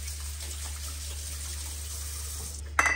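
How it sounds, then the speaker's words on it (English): A kitchen tap runs steadily while hands are washed under it during fish preparation, a continuous even stream of water that ends abruptly with a brief clatter. "Let me just wash my hands a second."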